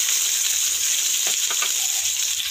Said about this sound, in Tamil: இதெல்லாம் நல்லா பொரிஞ்சிட்டு நான் இப்போ இதில் வெங்காயத்தை சேர்க்குறேன்.